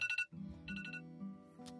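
A faint phone alarm tone beeps in short repeated pulses, quiet and brief, with a low hum underneath.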